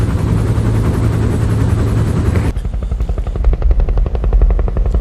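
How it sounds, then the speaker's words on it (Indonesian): A helicopter's rotor thumps close by, the steady loud drone giving way to distinct rhythmic chopping blades. "ia mendengar suara helikopter"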